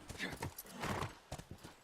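Quick, irregular horse hoofbeats in the video game The Last of Us clatter close by, mixed with soft breathy bursts, fairly quiet overall.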